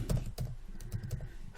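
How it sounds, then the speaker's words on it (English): Rapid keystrokes on a computer keyboard come close and clear in an irregular run of light taps, with no voices over them. "So we'll type here office furniture."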